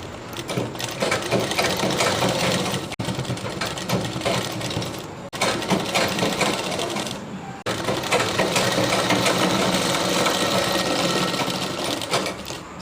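A sewing machine runs in close, steady bursts while stitching a puff sleeve for a frock, a dense whirring rattle of needle and gears with two brief pauses between runs.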